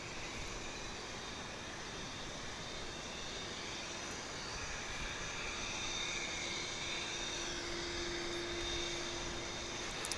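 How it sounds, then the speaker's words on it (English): A distant jet aircraft engine roars continuously at DFW International Airport, a faint, steady broadband rumble with a slight whine that builds gently toward the end, with no one speaking. "you may hear some other jet noise behind me"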